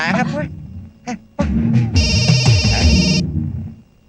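A mobile phone ringtone rings loudly for about a second and a half in a Telugu film scene, a bright, steady electronic melody that cuts in after bursts of dialogue and other sounds.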